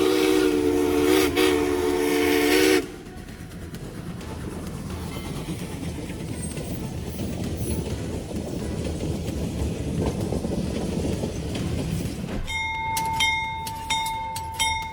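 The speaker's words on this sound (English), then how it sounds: "I've always been drawn to the sound of steam locomotive whistles like this." A steam locomotive whistle blows loud and close for about three seconds. A long rumbling train passage follows, and bright bell-like tones ring near the end.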